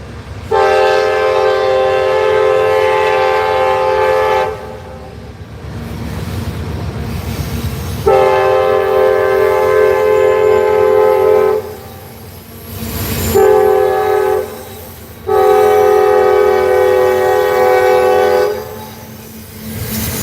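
CSX freight train passing at night in Dalton, Georgia, its loud multi-tone horn blaring in long repeated blasts over the heavy rumble of the rolling cars, close by.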